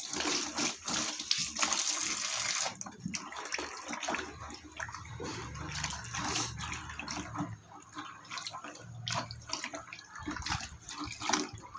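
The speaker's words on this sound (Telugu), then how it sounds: "అందుకే ఇక్కడ మేము టబ్ని నార్మల్గానే కడుగుతాం" Plain water runs and splashes as a tortoise's tub is washed without soap. The sloshing and pouring is close and uneven, rising and falling in bursts with occasional drips and scraping, and no one speaks.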